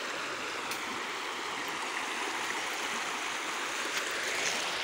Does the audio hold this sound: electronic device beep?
no